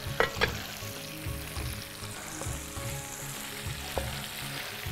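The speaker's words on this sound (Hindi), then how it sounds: "बीन्स हमने फ्राई कर ली हैं।" Beans fry in hot oil with a constant, close sizzle, broken by a few sharp clinks of a utensil stirring in the pan.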